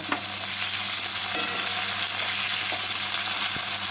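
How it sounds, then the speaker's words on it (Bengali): Chopped onions fry in hot oil tempered with black cumin and green chillies, giving a steady, loud, close sizzle with occasional stirring scrapes throughout, no voices. "এবার এর মধ্যে দিয়ে দেব কুচনো পেঁয়াজ পেঁয়াজটাকে"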